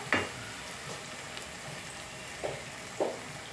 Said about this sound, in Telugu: తొందరగా వేగిపోద్ది కారం.